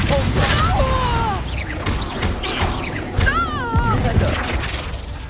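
A Confringo fire spell blast in Hogwarts Legacy, a short crackling burst with whooshing magical swirls mixed into busy combat noise, while a voice shouts over the action.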